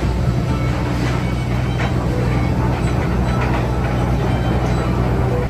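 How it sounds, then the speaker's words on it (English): A park train ride at Busch Gardens Williamsburg: a continuous rumbling ride with a steady low drone and rattling as the small train rolls along its track, loud and close throughout. "we're gonna take a nice train ride around the park"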